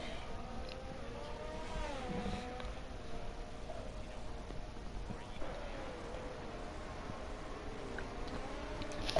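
F1 23 race cars at Zandvoort whine past with rising and falling engine tones, fairly faint beneath a steady stream of race commentary.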